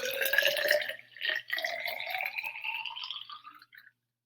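Water poured into a cylinder during a first-grade lesson, a close bubbling, gurgling pour with a rising glassy tone, broken by a brief gap, then trailing off to silence after about four seconds.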